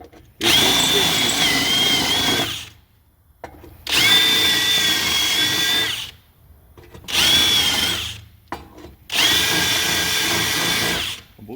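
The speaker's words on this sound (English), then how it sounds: "Just drill a little bit." A power drill whirs in four separate bursts of a couple of seconds each, loud and close, with short silent gaps between them.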